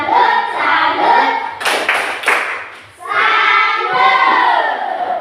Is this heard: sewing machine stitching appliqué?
no